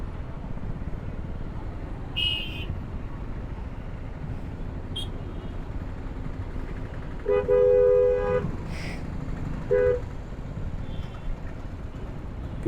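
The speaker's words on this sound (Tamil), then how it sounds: "பின்னாடி வேறு ஹார்ன் அடிச்சுட்டே இருக்கானே காரன்." Car horns honk over a steady heavy-traffic rumble in Madurai: a brief toot early on, then a longer, louder honk followed by a short one.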